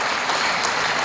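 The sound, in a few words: audience applause for a duduk player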